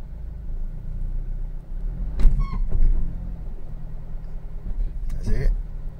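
Engine of a 2009 Audi TT 2.0L TFSI petrol S Line with a faulty automatic gearbox, rumbling steadily as the selector moves through park and reverse into drive, with a person talking briefly over it.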